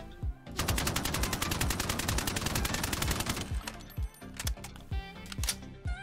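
Type 89 rifle in the shooter game Ironsight firing a sustained full-auto burst of rapid, evenly spaced loud shots, followed by several spaced single clicks and thuds; no talking.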